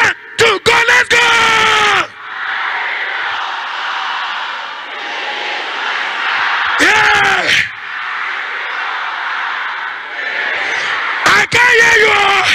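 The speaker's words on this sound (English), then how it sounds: "You will scream it 7 times at the top of your voice." A church congregation at a vigil shouts at the top of their voices in loud, sustained bursts of massed yelling, broken by short sharp yells and brief gaps of crowd noise.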